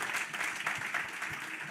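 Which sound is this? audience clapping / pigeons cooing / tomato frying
audience clapping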